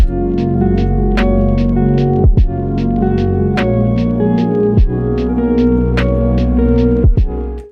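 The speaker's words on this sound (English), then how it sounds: "add some of that sidechain compression to get that piano to duck out of the way of that kick drum" A mellow lo-fi piano loop over a thumping kick drum, the chords ducking rhythmically in volume with each beat from sidechain compression.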